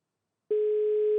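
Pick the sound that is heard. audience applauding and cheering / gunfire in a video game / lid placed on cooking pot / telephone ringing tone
telephone ringing tone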